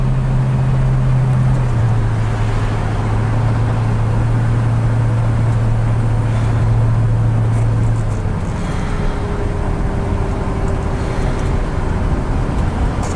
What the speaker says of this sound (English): So the car drives out really quite nice.